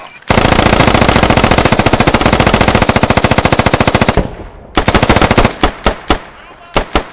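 A machine gun rattles off a long, rapid, sustained burst in the video game Squad, loud and close, followed by several shorter bursts and single shots.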